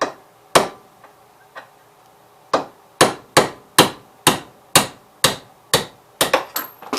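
A hammer strikes a punch held against hot metal in a series of sharp metallic clanks, first scattered and then in a quicker, fairly even run of about a dozen blows, each ringing briefly.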